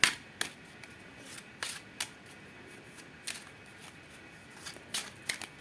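Quiet, sparse riffling of Darkest Dungeon tarot cards being shuffled, with a few soft snaps and flicks spaced irregularly against a low background hush.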